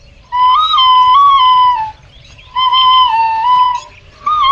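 A bamboo flute plays in a village, two sustained melodic phrases with slight pitch bends and a short third start, loud and close with no talking.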